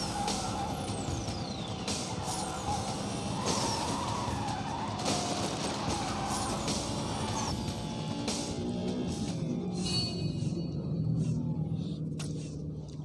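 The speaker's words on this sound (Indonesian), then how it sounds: "Kita ngedrift." A BMW M3 GTR drifting in NFS No Limits, with long tire squeals and skids over a revving engine, sustained sliding screeches rising and falling, loud and close.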